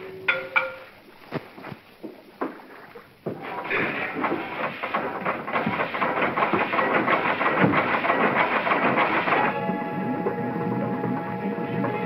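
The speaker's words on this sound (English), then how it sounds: "Stop the engine." A boat engine in the 1941 film Topper Returns starts up after a few sharp knocks, then runs as a loud, rough, steady mechanical roar with a droning tone near the end.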